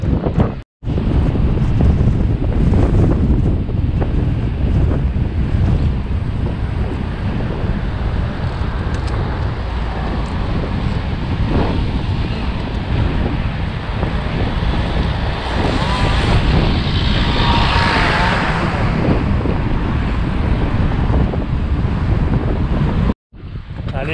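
Strong wind buffets the microphone on Fréjus beach, a loud, continuous roar with surf underneath that lasts throughout, with a brief dropout near the start and the end and no speech.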